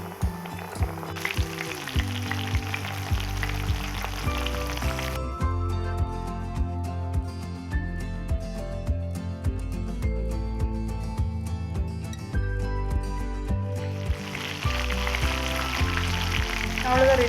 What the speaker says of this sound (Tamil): அடுத்து நம்ம ரெடி பண்ண prawn எல்லாத்தையும் ஒன்று ஒன்றா பொறுமையாக சேர்த்துக்கோங்க